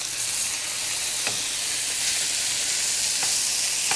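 Duck breast sizzling in a pan as it is flipped, a steady loud frying hiss with a few faint clicks of the pan and utensil, no talking.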